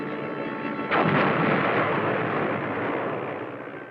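An explosion from an archival bombing test meant to sink a ship booms suddenly after a quiet stretch, then rolls off into a long fading rumble, with no one speaking.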